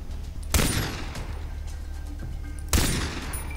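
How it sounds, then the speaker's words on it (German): Two loud revolver shots ring out in Far Cry 3, each a sharp, booming blast with a short decaying tail, spaced a couple of seconds apart. "Ist urgescheit, mit einer Revolver aus 20 Meter Entfernung zu ballern"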